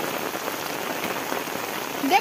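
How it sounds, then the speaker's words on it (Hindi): Heavy monsoon rain pouring steadily in a hill area, a dense close hiss of drops drumming on surfaces with no break, with a brief faint sound near the end. "देखो कितनी मोटी बारिश हो रही है"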